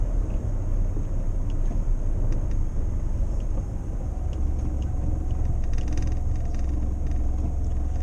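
Steady low rumble of a Morris Minor car engine idling and moving slowly while parking, loud and close with a constant drone, no speech.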